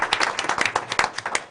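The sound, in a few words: audience applause for student winner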